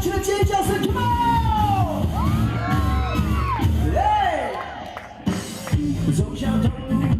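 An outdoor pop-rock concert crowd at Shimen Reservoir in Taoyuan whoops and shouts continuously under loud live band music and singing.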